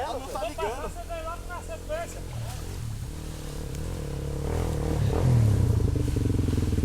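A white Honda XR trail motorcycle is started amid talk, the engine catching and then running louder with a steady rising drone toward the end, while voices chatter throughout.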